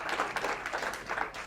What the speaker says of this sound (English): let's have a round of applause for that